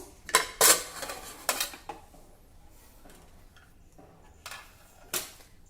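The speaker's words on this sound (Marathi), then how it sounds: "कुकर थंड झाला आहे आता आपण हा उघडून घेऊ" A cooled pressure cooker being opened after cooking amaranth bundles, with several sharp metallic clanks of lid and pot at the start, a few lighter clinks later, and no talking.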